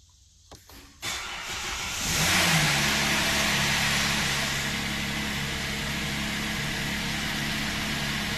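A 2013 Hyundai Azera with a hesitant starting problem: a few faint clicks, then a brief starter crank, the engine catching and revving up loudly before settling into a steady idle.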